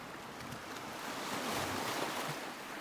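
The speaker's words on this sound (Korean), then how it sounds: "모코가 소리치는 순간 집채만한 파도가 덮쳐 배를 들었다 놨다" Huge waves crash over a ship in a storm at sea, a steady loud roar of surf and wind that swells in the middle and holds throughout, with no voices.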